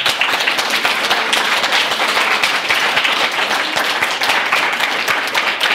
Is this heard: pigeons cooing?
no